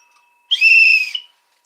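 A single short, shrill whistle blast sounds close and loud for about half a second, then cuts off into quiet.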